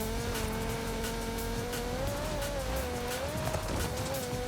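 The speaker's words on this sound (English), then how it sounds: "we put the Eiffel Turbo Rally engine in this car. That's why it sounds like a mosquito" Forza Horizon 5 race car fitted with the Eiffel Turbo Rally engine, droning with a thin, high, mosquito-like whine that rises and falls steadily through gear changes, loud and continuous for several seconds.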